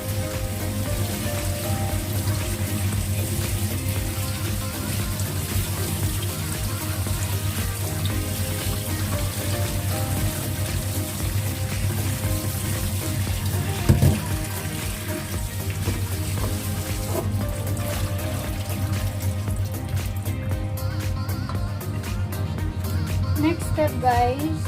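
Tap water running steadily into a sink while prawns are rinsed, a constant close splashing rush with occasional clinks, and a voice speaking over it.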